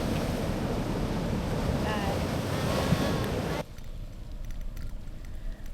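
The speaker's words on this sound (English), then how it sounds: "Whoa, look at those waves." Ocean waves roll and wash in a steady, loud roar, heard from a bicycle ride along the shore with wind buffeting, then the surf noise drops sharply and thins for the last couple of seconds.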